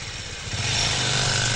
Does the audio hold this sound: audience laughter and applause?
no